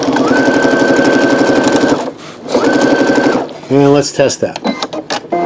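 A Brother SE625 computerized sewing machine runs in two bursts of rapid, even needle stitching through fabric, loud and close, with a short pause between; afterward a person talks briefly over clicks and handling noise.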